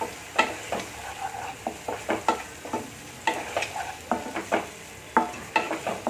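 A spoon scrapes and clacks repeatedly against a pan in an irregular stirring rhythm, mixing tomatoes and salt for a fenugreek leaf curry, over a soft background sizzle of cooking food.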